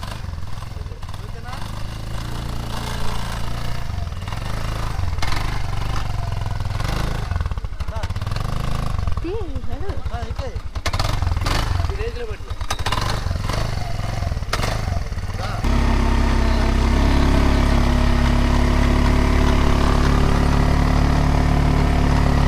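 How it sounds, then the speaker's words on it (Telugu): Beach bike engine running on the sand at Manginapudi Beach near Machilipatnam: a steady mid-pitched putter that swells louder near the end, with people talking over it. "ఈ బైక్ మీద ఇప్పుడు మనం ఈ బైక్ డ్రైవ్ చేస్తాము."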